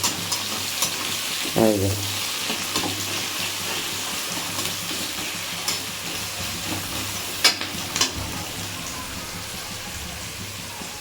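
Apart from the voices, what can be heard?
onions frying in hot oil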